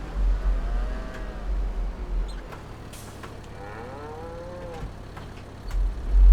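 Cows moo in a Farming Simulator 22 farmyard near a cow shed, giving two drawn-out calls at a moderate distance. A low vehicle engine drones underneath.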